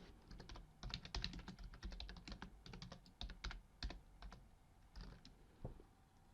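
Rapid bursts of typing on a computer keyboard, keys clacking in uneven clusters with brief pauses, close and fairly quiet with no talk.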